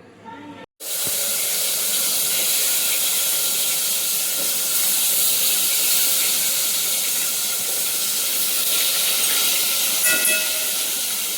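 A pressure cooker of vegetables lets out a loud, continuous hiss of steam that starts after a brief pause and holds steady throughout.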